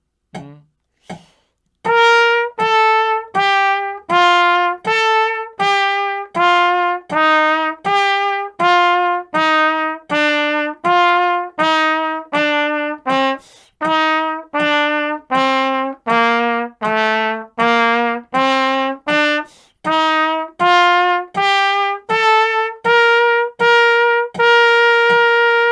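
Trumpet playing quarter note study number 15 from a beginner trumpet method: a clear solo line of evenly spaced, separately tongued notes with strong attacks, close and loud, pausing briefly for breaths.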